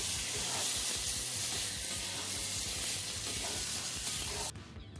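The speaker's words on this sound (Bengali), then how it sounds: "তেলটা হয়ে গেছে, এবার মাখিয়ে রাখা কাঁঠালের বীজটা দিয়ে দেবো। এবার শুকনো শুকনো করে কষে নেব" Marinated jackfruit seeds fry in hot mustard oil with a loud, dense, continuous sizzle and hiss that drops off abruptly at the end.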